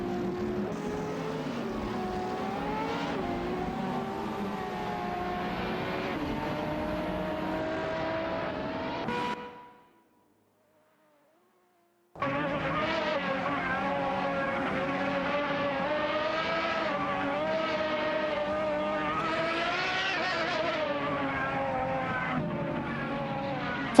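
Race cars from the Live for Speed racing game roar past with high engine whines and tyre squeals. The noise is loud and continuous, drops out completely for a few seconds, then resumes at full strength.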